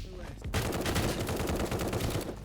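Dense machine-gun fire in a Squid Game mode of a shooter game, loud rapid rattling shots that start abruptly after a short lead-in and run steadily to the end, with a player talking underneath.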